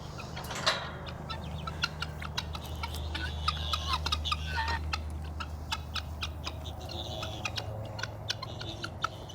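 Several chickens cluck and squawk outdoors, short irregular calls scattered over steady low background hum, fairly close and moderately loud, with no talking.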